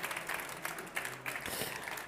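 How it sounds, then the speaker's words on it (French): Audience applause at an innovation award ceremony, a steady wash of clapping from a seated crowd, moderately loud, lasting the full couple of seconds. "On peut applaudir ce projet"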